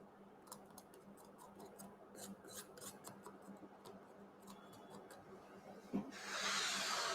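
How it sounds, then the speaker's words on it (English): Knife scraping out pieces of gingerbread for a gingerbread house gives faint, repeated scratchy strokes in a quiet kitchen, ending with a louder rasping scrape. "You can use the knife to scrape it out."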